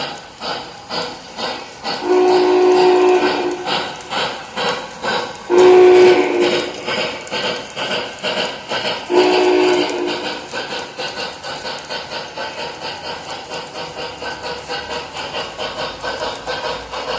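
An MTH Premier 4014 Big Boy model steam locomotive runs with a steady rhythmic chuffing, broken by three drawn-out whistle blasts early on, then settles into continuous chugging.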